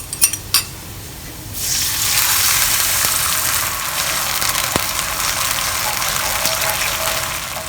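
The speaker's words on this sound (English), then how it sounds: "When you see that the garlic are starting to brown, pour in the sauce that we have made earlier on." Sauce poured into a hot wok with browning garlic while stir-frying Chinese broccoli, a couple of sharp knocks followed by a sudden loud, steady hiss and sizzle that holds on.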